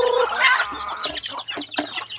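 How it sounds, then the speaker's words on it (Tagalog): A chicken clucks close by in a series of short, throaty calls, loud and uneven in rhythm, with no talking. "Kini among manok guys, binahugan jud ni siya."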